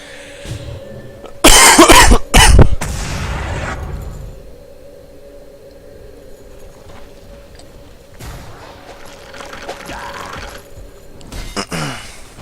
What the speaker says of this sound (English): There's constant coughing.